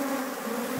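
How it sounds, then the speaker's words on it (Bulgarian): Honeybees fly around hives in a beekeeping yard, a steady close buzzing hum with no voices. "Доста пчели летят и ние сега отпътуваме обратно."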